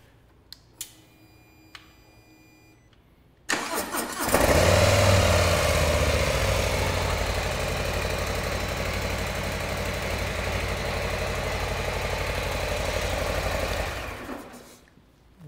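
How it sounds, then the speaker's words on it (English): A Harley-Davidson Street Glide ST performance motorcycle with a 117 cubic inch engine starts up with a sudden roar, then holds a loud, steady, deep rumbling idle for about ten seconds before cutting off. "That's one of the most performance-based Harley Davidsons out right now, with the biggest factory displacement Harley Davidson offers, and that's what it sounds like."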